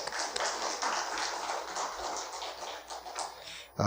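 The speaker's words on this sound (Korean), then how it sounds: "박수 드리겠습니다." A congregation applauds during a Korean church service: a steady wash of many hands clapping at moderate distance for about four seconds.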